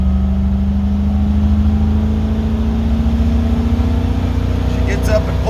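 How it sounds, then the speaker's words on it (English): A 1988 Ford 460 big-block V8 truck on 43-inch military tires pulls hard through a long third gear, a loud, steady engine drone rising slowly in pitch inside the cab. "here's a long third gear pull"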